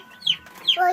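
A chicken gives two quick high clucks less than a second apart, close and clear, with nothing else around them.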